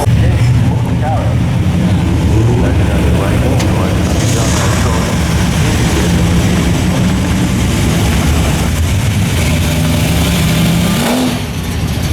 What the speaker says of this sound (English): We're at the New Jersey racetrack.